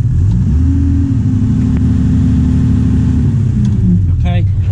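An antique track hoe excavator with a friction throttle runs loud and close, its engine droning at a steady rev after a rise, then easing down, with a voice speaking briefly over it near the end.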